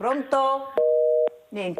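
Telephone busy tone on a radio call-in line after the call drops, a few steady beeps broken by someone speaking briefly at the start and end.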